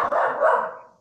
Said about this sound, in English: You can hear my dog, right?